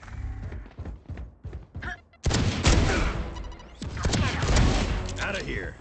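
A satchel detonates in the video game Valorant with a sudden heavy boom and crashing burst, followed by a second loud blast amid game effects.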